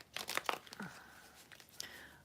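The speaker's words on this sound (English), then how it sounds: "Shuffling." Quick papery riffles and soft slaps of tarot cards being shuffled close by, in a few uneven bursts.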